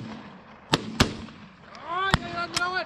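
Four sharp shotgun shots crack outdoors during a dove hunt, two close together then two more a second apart, with a voice shouting over the later ones.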